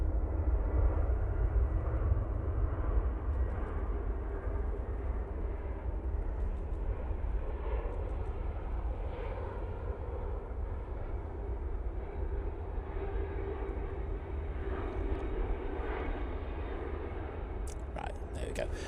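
A jet airliner coming in to land at Manchester Airport, its broad engine roar steady and fairly loud for the whole stretch, with a person talking over it.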